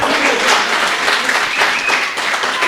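Applause from a live comedy show audience fills the room, a dense steady wash of clapping that holds loud and continuous throughout.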